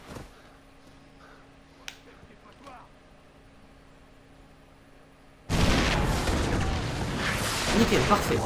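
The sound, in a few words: bomb exploding in Far Cry 3 video game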